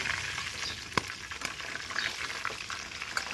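Beef roast fries in a pan over an outdoor cooking fire with a dense, crackling sizzle, close and fairly loud, with a sharp clack of a utensil and a few stirring scrapes, with no talking.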